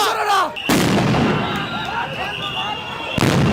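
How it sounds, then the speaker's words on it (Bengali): Police sound grenades burst in a street clash near a government secretariat, with two loud sharp blasts a few seconds apart and crowd shouting in between. "পুলিশ কিন্তু কয়েকটি সাউন্ড গ্রেনেড ছুটিয়েছেন"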